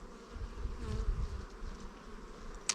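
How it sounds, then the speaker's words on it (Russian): Honeybees buzzing on a hive frame during a mite check, a steady close drone of many insects with one louder pass near the end. "Пчела хорошая, крупная."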